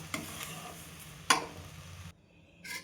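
Mukhwas seeds are roasted and stirred in a pan, with soft scraping and faint crackle, one sharp clack of the spoon against the pan midway, then a brief hush before stirring resumes.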